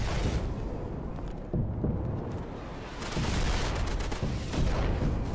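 Dense battlefield gunfire in the World War II shooter Day of Infamy, Dunkirk defence map, a continuous roar of rifle and artillery-like blasts with heavier booms rising and falling, no speech.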